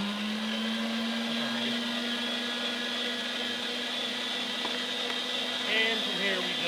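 Electric meat grinder running steadily on beef fat for tallow, a continuous close motor whine and hum holding even throughout with no pauses.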